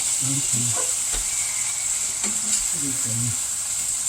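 Thinly sliced food frying in a pan, a steady bright sizzle running throughout at close range, with a few low murmured voice-like sounds and clinks of stirring over it.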